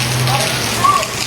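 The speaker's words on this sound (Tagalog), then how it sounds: "Ito, napakalakas ng ulan dito." Heavy rain pours down steadily on a rural province home in the Philippines, a constant broadband wash with a low hum beneath and faint voices in the background.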